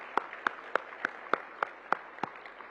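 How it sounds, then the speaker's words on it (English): A few people clapping at a hospitality and tourism summit, heard as a slow, evenly spaced series of single sharp claps, fairly faint and isolated in a quiet hall. "Let's give them all a big round of applause."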